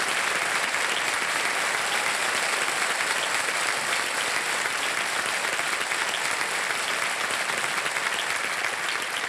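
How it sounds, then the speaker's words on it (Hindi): Studio audience applause on the quiz show Kaun Banega Crorepati welcoming a guest to the stage, a full, steady burst of many hands clapping that carries on unbroken and evenly loud throughout. "स्वागत किया जाए इनका तालियों के साथ"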